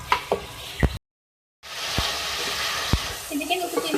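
Raw onion cooking with ginger and garlic in a pan, a soft continuous sizzle broken by sharp clinks of a spoon against the pan, with a brief gap of silence midway.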